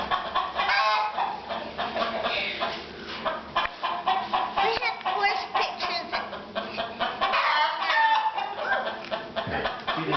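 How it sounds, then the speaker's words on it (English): A flock of farm chickens clucks and squawks in a dense, continuous racket at close range, with people talking intermittently over the birds. "See them chickens, Daddy Buck?"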